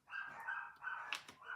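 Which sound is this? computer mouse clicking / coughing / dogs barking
dogs barking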